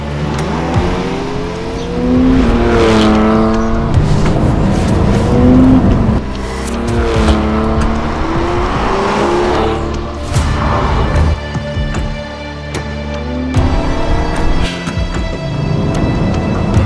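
A Porsche 718 Cayman GT4 sports car driving, its engine loud and close as it revs and climbs through the gears in repeated rising sweeps.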